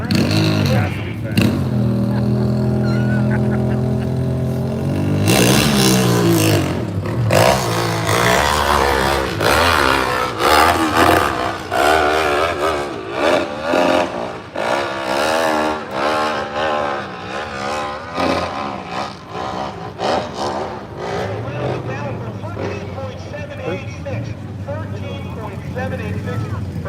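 A nitro drag racing motorcycle, the 1190, launching at a Freemansburg, PA drag strip, its engine screaming and climbing in pitch under an announcer's continuous commentary, with crowd and track noise around it.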